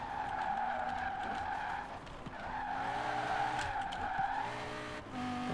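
An Audi RS7 Sportback in Forza Horizon 4 slides its rear out on a highway in winter conditions, tires squealing in long sustained tones over steady engine drone, with a short break midway before the skid resumes.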